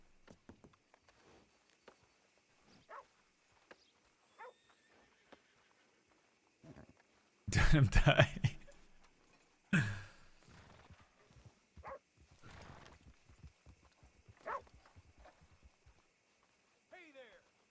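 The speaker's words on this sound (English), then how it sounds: "That's not my horse." Horse in a video game, sparse hoof clip-clops and scattered thuds at moderate distance, with a couple of louder bursts of noise and occasional talk in between.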